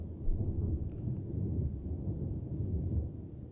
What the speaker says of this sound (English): This super loud clap of thunder fortunately woke a lot of the townsfolk up.